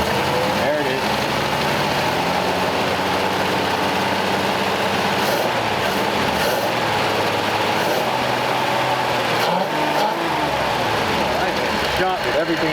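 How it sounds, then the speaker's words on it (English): A rare 1939 Ford convertible engine running and revving near the mic, a loud continuous mechanical drone that swells briefly, with people talking over it throughout. "When you rev it up, there it is."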